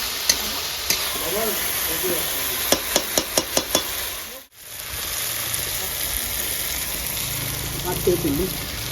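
Ginger-garlic paste sizzles steadily in a pan while being stirred, with a quick run of sharp spatula taps against the pan near the middle, a brief drop-out, and faint voices murmuring in the background.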